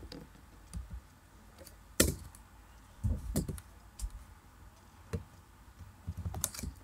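Programming an Android login app on a computer keyboard produces sparse, irregular key taps and clicks, some sharper and louder than others, in a quiet room with no talking.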